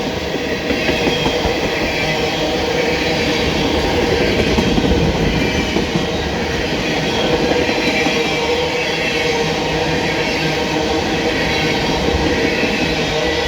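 A long, empty CSX ethanol freight train with one locomotive rolls steadily past nearby, its wheels making a continuous rumbling clatter with faint clickety-clack throughout.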